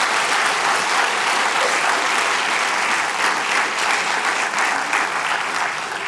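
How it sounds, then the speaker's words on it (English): A comedy club audience breaks into loud, sustained applause, a close, continuous roar of many hands clapping that holds at full strength for several seconds. "Give them a round of applause"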